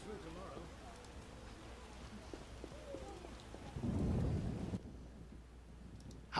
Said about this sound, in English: It'll rain through tomorrow.